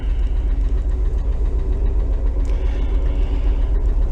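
A 1968 VW Double Cab's water-cooled engine runs at a steady, loud idle, rumbling close up without pause and with no voices.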